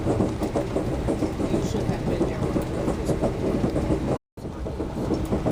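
A long CSX freight train with gondola cars rolls past near Clifton Forge, Virginia, giving a steady loud rumble and rattle of wheels on rails that continues throughout, with one brief dropout.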